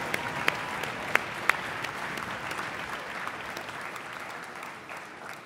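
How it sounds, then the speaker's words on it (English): An audience at a high school music festival concert claps continuously, a few sharp individual claps standing out early, and the applause gradually fades toward the end. "Let's keep clapping. Let's keep clapping."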